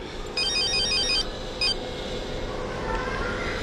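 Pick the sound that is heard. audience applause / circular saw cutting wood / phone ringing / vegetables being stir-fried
phone ringing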